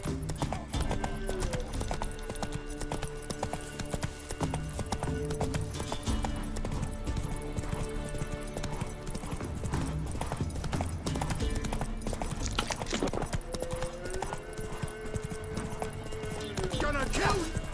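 Horse hooves clip-clop steadily in The Witcher 3 while the horse walks along, a continuous rhythmic beat under game music and ambience, with a brief whinny.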